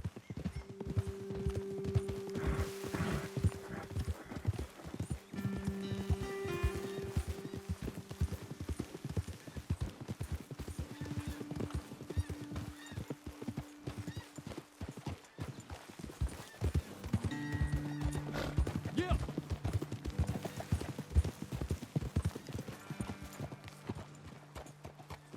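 Horses trotting in Red Dead Redemption 2, a steady clip-clop of hooves throughout with an occasional whinny, set against sustained in-game music tones.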